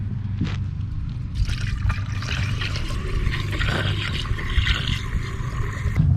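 Dexcool 50/50 coolant pouring into the cooling system of a 2011-2015 Chevy Cruze 1.4L Turbo, a steady close trickle and gurgle of liquid running for several seconds with no talk.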